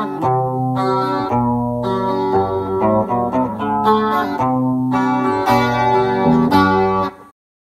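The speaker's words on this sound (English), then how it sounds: "So here we have the bootable chorus stomp box" Electric guitar played through a Faust-based chorus stomp box, a shimmering, doubled tone over a steady run of chords and notes, close and fairly loud, no talking.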